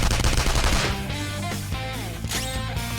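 Rapid gunfire in the turn-based battle game Persona 5 Royal, a dense burst of shots over game music that starts loud and eases into a steadier, quieter stretch with a few sharp accents.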